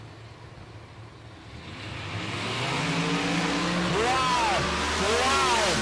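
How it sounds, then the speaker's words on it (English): Cars launching down a quarter-mile drag strip at Pueblo Motorsports Park, engines roaring and rising in pitch as they accelerate away, loud and sustained, with a spectator exclaiming briefly. "quarter-mile drag racing"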